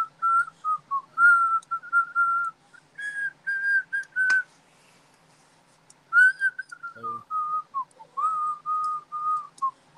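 A person whistles a song in clear, melodic phrases that pause and resume over several seconds, alone and fairly close.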